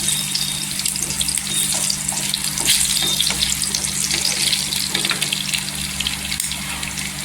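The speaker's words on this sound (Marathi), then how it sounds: "लसूण छान असा गोल्डन कलर झाला आहे इथे लसूण पण बघा गोल्डन कलर झालेला आहे" Garlic fries to golden in a pan for a dried bombil chutney, giving a loud, steady close-up sizzle and hiss with faint stirring clicks throughout.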